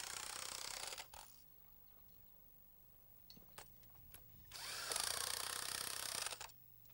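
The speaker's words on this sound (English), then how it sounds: "I like to tighten them down with an impact wrench" Power-tool bursts from an impact wrench tightening nuts onto bolts on mud sills during floor framing: a loud buzzing run at the start, quieter mechanical clicks and short bursts in the middle, then a second loud sustained run near the end.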